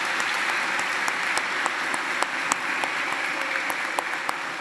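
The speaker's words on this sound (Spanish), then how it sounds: "Denle un aplauso muy fuerte a estos dos criaturitas." A congregation applauds two children during a Catholic Mass, a steady hall-wide clapping that holds evenly throughout with a few sharper individual claps standing out.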